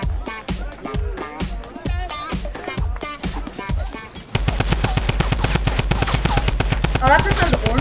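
A Tommy gun in a video game rattles off a long, rapid, evenly spaced automatic burst in the second half, following earlier separate loud shots.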